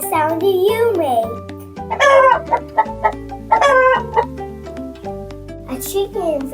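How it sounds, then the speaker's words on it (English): Clucking from a chicken on a French farm in a children's animal-learning program, heard over steady background music in several short bursts with pauses between. "Do you hear something clucking?"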